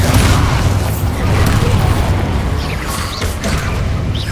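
A Bombarda spell going off in the video game Hogwarts Legacy, a loud, dense booming burst with crackling debris that rumbles on steadily across the whole moment.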